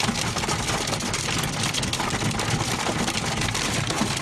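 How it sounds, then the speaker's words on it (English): Hail and intense rain pound a car during a severe storm in Breathitt County, Kentucky, a loud, dense, unbroken roar of hammering impacts filling the whole stretch. "Hail pounding a car."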